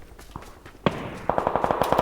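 Video game gunfire on the Rondo map: a single sharp shot, then a rapid burst of automatic fire crackling in quick succession at moderate loudness, with no talking.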